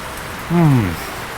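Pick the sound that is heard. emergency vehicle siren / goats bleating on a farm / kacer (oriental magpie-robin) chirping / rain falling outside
rain falling outside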